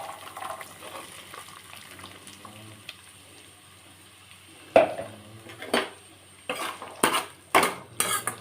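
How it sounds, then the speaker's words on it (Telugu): Onions and green chilies dropped into a pan and frying for a tomato curry, with metal utensil clatter and stirring clinks growing louder toward the end over a low sizzle, no talking. "ఇప్పుడు ఉల్లిపాయ పచ్చిమిర్చి వేసేద్దాం."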